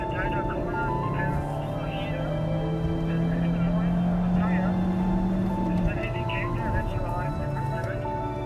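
A car engine roars at full throttle, a loud sustained drone with a rising tone, while a person talks over it throughout.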